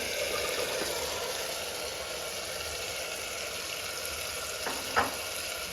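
Chickpeas tossed into hot masala in a pan for chole, giving a steady broadband sizzle throughout with a brief louder stir or clatter near the end; no talking.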